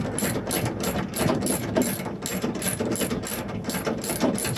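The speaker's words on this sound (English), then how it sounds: "I'm just bolting it back up." A ratchet clicks steadily in quick repeated bursts, close and loud, while bolts are tightened to fix a DIY camper bed frame back in place inside a Crafter van.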